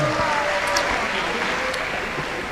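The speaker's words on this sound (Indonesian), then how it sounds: "Tepuk tangan untuk Prof. Neti." Audience applause for a university vice-rector at a campus event at UPN, steady broadband clapping filling the room throughout, with a voice faintly audible underneath.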